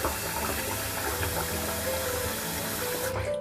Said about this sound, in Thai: เปิดน้ำอุ่นๆนะคะแช่ข้าวเหนียวนะคะ